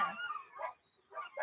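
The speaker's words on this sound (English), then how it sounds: "Can y'all hear the dogs?" Dogs yip and whimper a few times at some distance, thin, high, whiny sounds in short bursts separated by a brief quiet gap.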